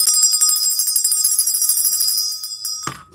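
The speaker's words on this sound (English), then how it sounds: "Sounds like a school bell." A brass hand bell, old-fashioned school-bell style, rings continuously and loudly with a bright, shimmering tone for about three seconds before cutting off abruptly, with no talk over it.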